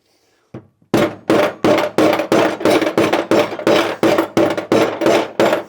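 About a dozen loud, sharp hammer blows flatten metal for a rivet nut during a fuel cell install in a Nissan 240SX, in a steady, fairly quick rhythm, close by, with no talking.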